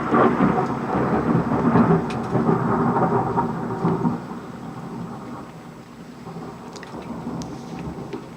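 A thunderstorm with hail brings a long, loud rolling rumble of thunder over steady rain, fading to a softer wash of falling precipitation with scattered sharp ticks.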